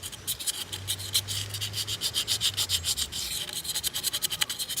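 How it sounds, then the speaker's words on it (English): Sandpaper rubs corrosion off a 2003 Ford Focus 2.0L thermostat housing, a fast run of rhythmic scratchy strokes repeating close up, with a low steady hum underneath. "just sand a little bit on the sides, around it, making sure the corrosion goes away and stuff"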